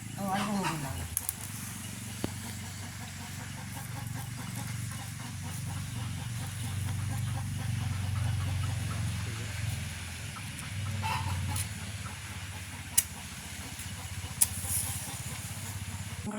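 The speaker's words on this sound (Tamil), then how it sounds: "இப்போ நாங்கள் அடுப்பை மூட்டுவோம் நம்ம." A village cooking stove fire is lit, giving a steady hissing, breathy roar with a few sharp crackles and pops, while someone talks over it throughout.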